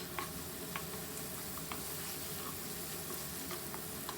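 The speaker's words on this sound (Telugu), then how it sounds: "ఇప్పుడు ఆనియన్స్ గోల్డ్ కలర్ వచ్చే వరకు వేగనిద్దాము" Onions with a pinch of turmeric and salt fry in a pan with a soft, steady sizzle that holds at an even level, broken by a few faint ticks, with no voices over it.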